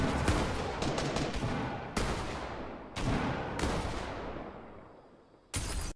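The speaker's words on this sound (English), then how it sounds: "Easy pump shot." Pump shotgun blasts ring out in a Fortnite fight: several loud, sharp shots in an irregular sequence, each decaying before the next, with a final blast near the end.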